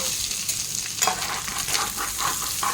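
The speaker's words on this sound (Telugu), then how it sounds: "చికెన్ అయితే కొద్దిగా ఫ్రై అయిపోయింది" Chicken fries in a pan with a loud, continuous hiss of hot oil close by, broken by a handful of brief stirring scrapes.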